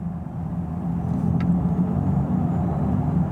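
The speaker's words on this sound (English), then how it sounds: "having a synthetic noise amplification that happens not only inside the car, but outside the car as well" A Mercedes-AMG EQE53 electric car plays its synthetic drive sound, a steady low hum and rumble like an engine, heard from outside the car without speech.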